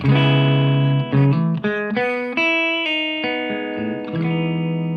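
A Telecaster electric guitar plays a clean tone through a Fender Tone Master amp, a loud, close sequence of ringing sustained notes and chord changes with no talking.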